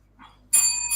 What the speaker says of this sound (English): So the bell to get the cats to come